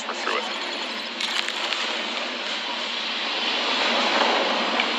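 SpaceX Falcon 9 rocket engines during ascent near maximum aerodynamic pressure, a steady, broad, roaring rumble that holds loud and constant throughout with slight crackle, no voices over it.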